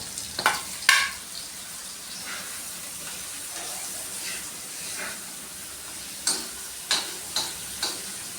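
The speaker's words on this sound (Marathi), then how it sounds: "हे जरा परतवून घेत आहे" Finely chopped onions sautéing in a pan, with a soft constant sizzle and sharp spatula clinks and scrapes near the start and again toward the end.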